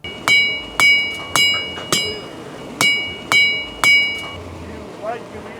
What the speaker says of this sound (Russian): пока оружейники куют свои изделия